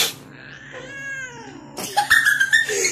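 A cat meows, one drawn-out, wavering meow followed by a louder, harsher burst of cat cries.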